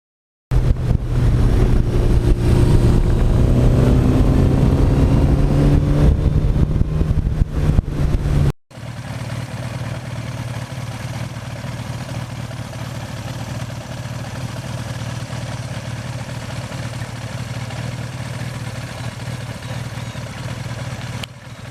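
A 1982 Suzuki GS1100E motorcycle engine running close by, a steady loud rumble that rises in revs for several seconds, then drops abruptly to a lower, even idle hum.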